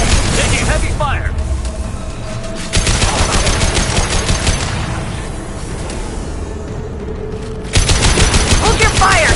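Combat gunfire in the video game Mass Effect, with dense automatic bursts rattling almost nonstop and loudly, heavy thumps mixed in and the firing surging harder near the end, while voices speak over it.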